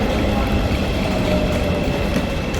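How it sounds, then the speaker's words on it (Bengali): A train pulls into Söğütlüçeşme station in Istanbul, a steady loud rumble of rolling wagons with a faint rail clatter and broad station noise throughout, no clear squeal or horn. "আমাদের ট্রেন এসে গেছে"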